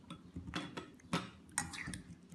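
Metal spoon clinks and scrapes a few times while stirring flax seeds with water in a bowl, with short separate taps close by and no voices.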